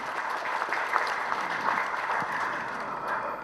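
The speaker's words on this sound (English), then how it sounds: "Let's give him a big round of applause, ladies and gentlemen." At an industry conference session, an audience applauds a welding and wire machinery association figure with steady, dense, fairly faint clapping from a sizable crowd, sustained evenly throughout.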